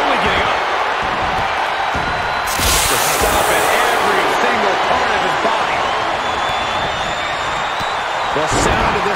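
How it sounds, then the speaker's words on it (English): A loud arena crowd in the WWE 2K22 wrestling video game roars continuously, with a commentator speaking over the constant cheering and occasional thuds. "The sound of this crowd is deafening"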